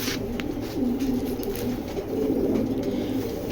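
A big red checker pigeon hen coos in a low, steady murmur, close and continuous, with faint background noise and a few light rustles.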